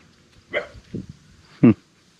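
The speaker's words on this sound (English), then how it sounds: "Hey, doggy. Why are you barking?" A dog gives a few short barks, two close together then one louder bark after a pause, with quiet between.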